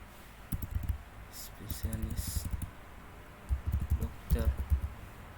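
Someone types copy and paste shortcuts on a computer keyboard, making sharp clusters of clicks in separate bursts with quiet gaps between them.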